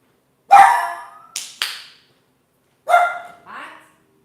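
A dog at home gives a few sharp barks in two short bursts with a pause between them, loud and close against an otherwise quiet room.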